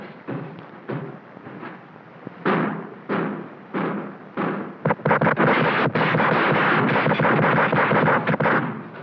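A Remington Model 742 automatic rifle fires in a series of sharp, loud reports, spaced apart at first and then packed into a dense, rapid run of overlapping shots toward the end, with no voices.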